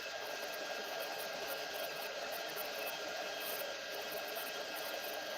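A steady, loud broadband hiss and whoosh of a heat gun blowing hot air to melt embossing powder, continuous and unbroken with no talking.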